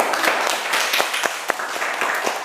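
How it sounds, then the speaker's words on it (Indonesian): A classroom group claps for fellow students after their presentation on a tone control circuit, a moderately close patter of hands with a few sharper individual claps standing out, continuous for the whole stretch. "tepuk tangan untuk kelompok"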